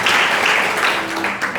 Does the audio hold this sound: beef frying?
no